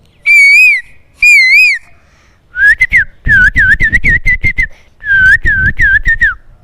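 A human voice whistling an imitation of a koel bird's call, two rising wavering notes followed by rapid repeated bursts of warbling calls, loud and close.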